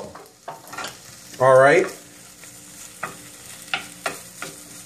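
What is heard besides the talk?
garlic sizzling in frying pan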